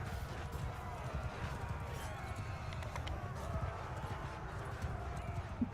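Horses galloping in the medieval battle game Bannerlord, a dense rapid drumming of hooves alongside clashing battle noise, steady and continuous throughout.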